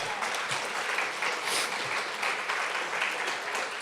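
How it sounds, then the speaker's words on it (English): Audience applause for Cal Rudman, a broadcaster, as he is introduced: dense, steady clapping from a crowd, filling the whole stretch at an even level. "Let's have a round of applause for Cal, my big beat pal."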